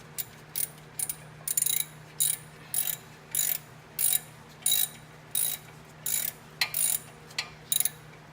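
A ratchet being cranked on the brakes of a Land Rover Discovery 2, about a dozen crisp clicking bursts in an even rhythm, close and fairly quiet, with no talking.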